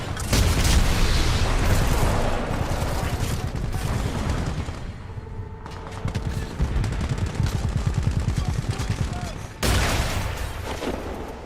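Gunfire in the shooter game Titanfall 2, dense automatic bursts and single shots with booming hits, loud and close, breaking off briefly midway before resuming, with a voice talking over it.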